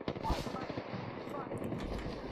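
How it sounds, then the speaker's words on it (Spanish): Faint, distant gunfire in Apex Legends, a few muffled shots and rattling bursts in a busy low-level game mix, with voices talking over it. "Disparando desde atrás, tío."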